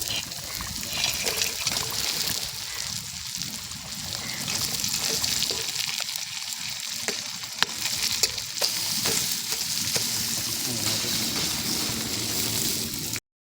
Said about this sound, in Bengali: এবার দিয়ে দেবো ভেজে রাখা মাছের মাথা